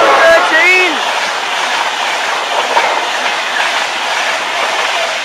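A Virgin Trains East Coast passenger train runs through wet Newark North Gate station on its 10:49 London King's Cross to Leeds service, with a steady loud rushing roar, rapid wheel clatter and a brief squeal at the start.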